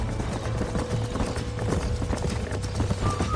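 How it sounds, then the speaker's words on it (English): Horse hooves clip-clop steadily and close by in the video game Red Dead Redemption, a continuous rhythmic trot over a busy ambient background. "These are fine horses."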